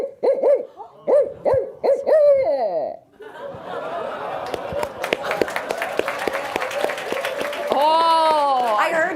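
Several people take turns mimicking barred owl hoots with their voices, swooping rhythmic calls that open alone, then give way to a stretch of laughter, clapping and chatter before more voiced hoots return near the end.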